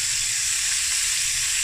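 Onion, jalapeños and garlic fry in a hot pan with sausage, giving a loud, steady, close sizzle that holds unbroken from start to end, with no voices.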